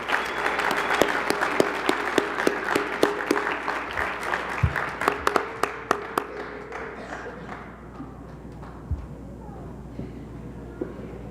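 A board meeting audience gives a round of applause for the girls' junior varsity basketball team, loud clapping with sharp individual claps that gradually thins and fades toward quieter room noise.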